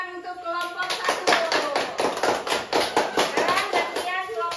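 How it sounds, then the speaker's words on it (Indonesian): Fifth-grade children in a classroom clap for a group during a coding lesson, a quick, lively burst of many small hands that rises and continues steadily, with a few young voices chattering underneath. "beri tepuk tangan untuk kelompok 1"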